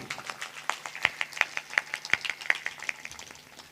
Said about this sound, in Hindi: तालियां बजाइए ऐसे भाव को